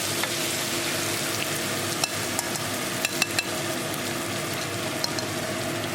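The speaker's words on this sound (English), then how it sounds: "cook the spices along with tadka for 1 minute" Dry spices sizzling and frying in hot tadka with tomatoes for chicken biryani, stirred steadily in the pan, giving a continuous crackle with a few sharp scraping clicks, close and without talk.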